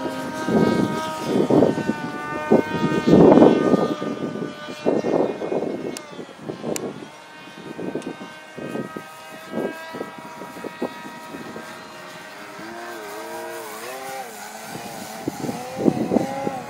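A small engine on an RC Flex Innovations Cessna 170 model airplane drones with a steady buzzing whine that rises and falls as it passes, mixed with gusty wind buffeting the microphone.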